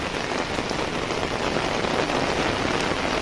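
A downpour falls hard and continuously outdoors near a temple, a close, loud wash of raindrops drumming on surfaces with no talk over it.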